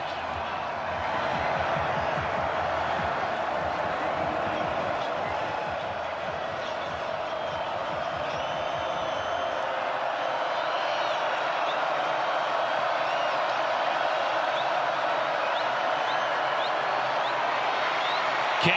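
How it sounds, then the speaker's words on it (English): A large football stadium crowd at a Georgia Tech vs NC State game on a fourth-quarter third down, a steady roar of cheering and noise that swells slightly, with a commentator speaking over it. "And this crowd is into it."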